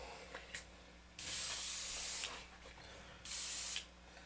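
An airbrush sprays violet shader paint in two quiet, steady hissing bursts, each lasting about a second, with a short pause between them.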